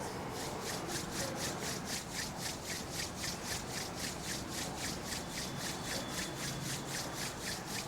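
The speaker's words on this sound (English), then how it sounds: "Slowly rub your palms." Palms slowly rubbed together, a rhythmic swishing friction repeated about three times per second, close and fairly quiet, with no talking.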